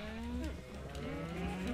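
Cows in the video game Minecraft moo in long, drawn-out, wavering calls that are close and clear, one after another over a faint steady background.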